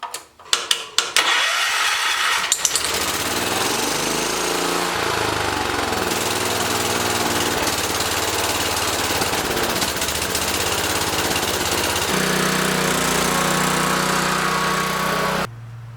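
An 800cc engine on a homemade monster tractor runs continuously with the choke on, a loud, steady droning roar that holds nearly unchanged for a long stretch before settling slightly lower near the end.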